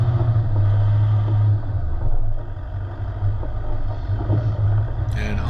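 An off-road vehicle drives along the Border Track, its engine a steady low drone with rumbling and wind buffeting the microphone throughout, fairly loud and continuous with no talk.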